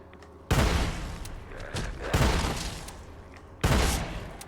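Shotgun revolver gunfire from a Fallout 4 mod in a video game, three loud, booming blasts at uneven intervals, each dying away slowly, with a few fainter thuds between them.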